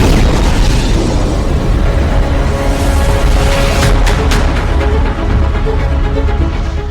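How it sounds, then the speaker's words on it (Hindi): A massive, sustained roar of a Russian missile strike explosion in Kharkiv fills the scene, loud and rumbling, with crackling bursts and debris noise continuing throughout. "खार्किव पर रूस के मिसाइल हमले से जोरदार धमाका हुआ"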